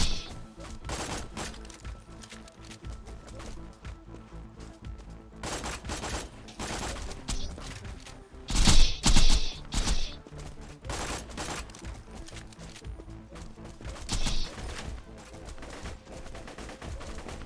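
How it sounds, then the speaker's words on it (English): Sandhawk gun from Borderlands 2 firing at turrets in rapid bursts, with dense volleys throughout and the loudest, sharpest salvos around the middle, amid ongoing game combat noise. "Let's see if I can target these turrets with the Sandhawk from this range."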